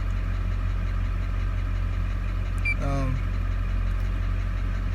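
Duramax diesel engine idling with a tapping noise, a steady low rumble held evenly throughout at close range, with a brief higher sweep near the middle.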